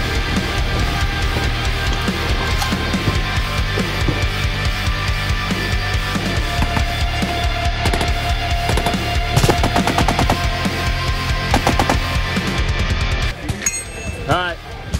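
Machine gun fire at an outdoor shooting range sounds as a dense, continuous stream of loud, rapid reports, with a few louder cracks standing out near the end.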